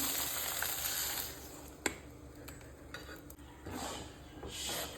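Ground coconut paste stirred into a simmering Goan egg drop curry in a pan, a soft continuous sizzle with a few sharp spoon clinks against the metal.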